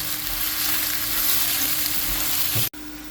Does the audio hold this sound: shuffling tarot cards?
no